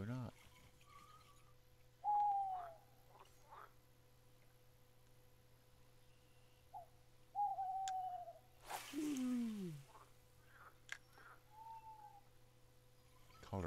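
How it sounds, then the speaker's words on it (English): A rain crow calls in the background on an outdoor bass fishing trip, a few faint, widely spaced tonal notes, some sliding downward, over a quiet, low hum. "It's called a rain crow."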